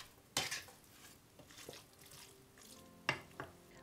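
Shrimp, scallops and breadcrumbs being stirred together in a bowl as a seafood dumpling filling, with a few soft scraping clinks and quiet mixing rustles, close and faint.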